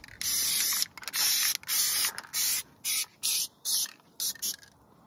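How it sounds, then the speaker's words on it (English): Oil sprayed onto the pickup chains of a hay baler in repeated short hissing aerosol bursts, about ten spurts in a steady rhythm, close and fairly loud with brief gaps between each. "The chains in here that we're going to oil."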